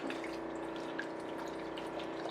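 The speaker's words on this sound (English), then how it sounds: "Then I'm gonna go in with some red wine vinegar." Red wine vinegar trickles from a bottle onto a kale salad, producing a soft, continuous liquid pour with faint splashing at low volume.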